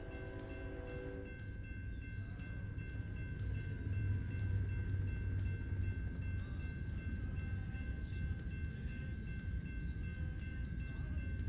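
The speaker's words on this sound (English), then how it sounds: "Oh, Tracy, the train." A train rolls past in the American Truck Simulator driving game, a steady low rumble of wagons filling the scene, with a sustained high tone running alongside and a few faint clicks over it.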